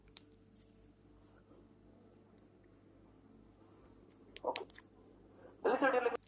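Pen writing notes on paper, soft scratchy strokes faint and intermittent against a quiet room hum, ending in a louder burst of scribbling.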